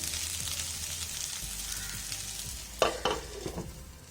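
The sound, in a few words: potatoes frying and being stirred in a pan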